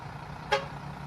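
A single short truck horn toot sounds once, brief and moderately loud, over a low idling engine hum.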